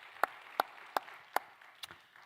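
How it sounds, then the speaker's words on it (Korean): Applause at a Korean church Friday prayer meeting comes through as about five sharp, evenly spaced hand claps, faint and fairly distant, with the last one softer. "박수하겠습니다."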